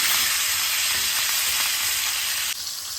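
A seasoned strip steak sizzles loudly and steadily in a hot pan, a dense continuous frying hiss that dips slightly near the end.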